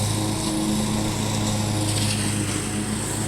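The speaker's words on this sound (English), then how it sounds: "He's been mowing for like an hour now." A lawn mower runs steadily nearby, cutting through yard plants and tall purple flowers, its engine drone constant and fairly loud throughout with no talk over it.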